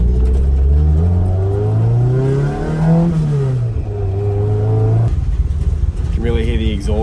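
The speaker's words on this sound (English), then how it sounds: "You can really hear the exhaust rattling around." A Toyota AE86 Levin with a Beams 3SGE engine revs and accelerates nearby with a gritty, rattling exhaust note, pitch rising and falling, then a lighter burst near the end.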